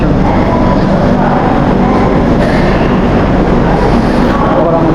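A passenger train pulls out, heard from on board as a loud, unbroken rumble and rattle with faint voices underneath.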